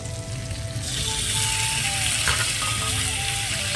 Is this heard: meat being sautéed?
yes